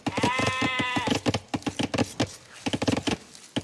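Sheep bleating in an Age of Empires match, a clear wavering bleat up front followed by rapid pattering clicks and game effects, no talking.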